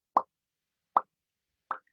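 A voice imitates a champagne cork popping with the mouth, three short sharp plops spaced evenly about 0.8 seconds apart, close and isolated against silence.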